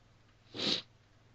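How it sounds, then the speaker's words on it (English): A single close sneeze, short and sharp with a breathy burst, standing alone over a quiet low background hum during a Minecraft modpack mining session. "sorry about that, I sneezed."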